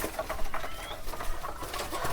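Pigeon chicks being raised in a loft, giving soft, faint chirps and coos against a steady background hum, with no talk.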